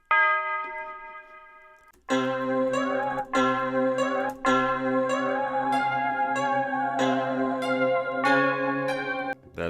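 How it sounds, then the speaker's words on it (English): A sampled tubular bell rings a sustained tone alone, then from about two seconds repeated bell strikes land in a steady rhythmic pattern over a looping beat, loud and close with rich ringing overtones. "I'm going to grab a tubular bell"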